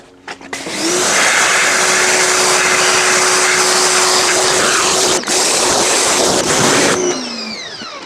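A Draper 165 bar pressure washer with a spray attachment runs on an Indian sandstone patio, starting with a few clicks, then holding a loud, steady motor whine and hissing spray for about six seconds before winding down.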